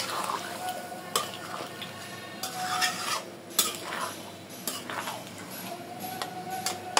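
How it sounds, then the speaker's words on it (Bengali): Desi chicken meat being stirred and fried in a pan for a spicy curry, with steady scraping of a spoon against the metal, sharp clinks and a soft sizzle underneath. "মাংসটা ভালোভাবে কষায় নেব।"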